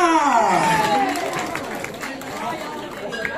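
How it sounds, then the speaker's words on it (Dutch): A crowd at a live children's show performance in Veerle-Laakdal applauds and cheers, a dense sustained wash of clapping and voices that stays loud throughout with lively chatter mixed in. "Daverend applaus voor Nathalie en Ilana!"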